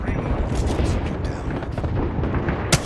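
Video game gunfire: dense, continuous rumbling bursts of shots with a sharp crack near the end.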